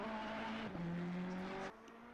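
Ferrari race car in a racing video game at Suzuka, its engine holding a steady note that drops briefly as the wheels run over the curbs, then falls away near the end.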